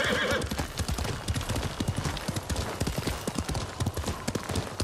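Horse hooves clip-clop in a quick, steady rhythm in the video game Ghost of Tsushima, close and loud, with a horse neighing near the start and faint voices underneath.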